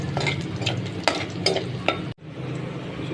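Garlic fries in a pan until golden brown for adobong talbos ng kamote, a steady close sizzle broken by stirring scrapes and a couple of sharp knocks, with a brief cut to silence before the hiss resumes.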